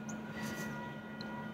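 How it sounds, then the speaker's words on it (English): Steady rumble and hum of a southbound train arriving at a station, a continuous low drone with faint higher squeals over it and no talking. "Southbound train to Fairway is arriving."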